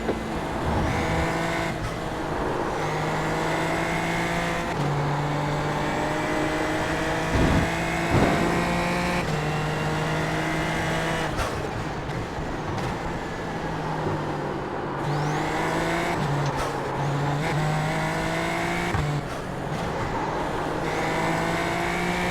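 Race cars pass during a race, engines droning and revving in overlapping waves, pitch sweeping as each car goes by, a constant loud motor roar from start to end with no talking.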